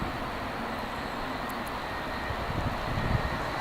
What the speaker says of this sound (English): Have a quick look at that KLM that's just landed.